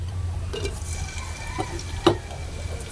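Garlic sautéing in hot oil in a pan: a steady soft sizzle with a few light scrapes and stirring taps. One sharper clink comes near the end.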